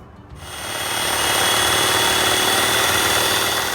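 An electric blender on high speed whips cream with condensed milk and cocoa powder for chocolate ice cream, starting with a short lower whir before rising to a loud, steady motor whine that runs to the end with no talking.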